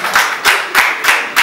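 Audience applauding parents at an award ceremony for a summer reading contest, heard as five loud, evenly spaced bursts of clapping close by, with no voices.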